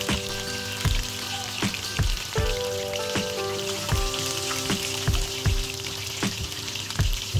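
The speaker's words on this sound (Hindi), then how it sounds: "उसके बाद आपने जो अपना फ्लेम है वो कम फ्लेम करके लो फ्लेम के साथ फ्राइंग करनी है" Chicken drumsticks fry in hot oil over a low flame with a steady, dense sizzle and crackle, punctuated by regular sharp pops and clicks, close and alone with no voices.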